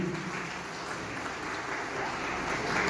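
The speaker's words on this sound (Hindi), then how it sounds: "तालियों से जोरदार स्वागत," Audience applause welcoming guests at a railway week award ceremony, a dense, steady round of clapping from a hall crowd heard at moderate distance for a few seconds.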